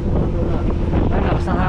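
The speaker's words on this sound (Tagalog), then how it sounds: "Ay, lakas ng hangin." Strong wind roars against the microphone during a rainy motorcycle ride from San Andres to Pagbilao, Quezon, a loud, continuous buffeting rush with no pauses.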